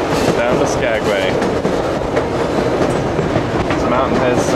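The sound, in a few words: scenic train ride from British Columbia to Skagway, Alaska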